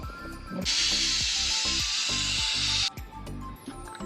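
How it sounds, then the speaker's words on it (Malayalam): Steam hissing from a pressure cooker as it is opened, a loud, close burst of hiss lasting about two seconds before cutting off, over a rhythmic low background. "കുക്കർ തുറക്കുമ്പോഴൊരവസ്ഥ ഇങ്ങനെയാണ്"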